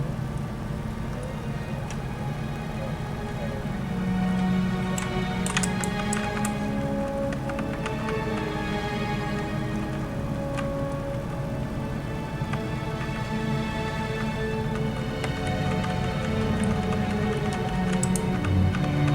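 Rain of Bones boss ability in World of Warcraft's Karazhan raid, The Burning Crusade Classic: a steady, dense pattering clatter like heavy rain, running continuously under layered game music and effects, with no talking.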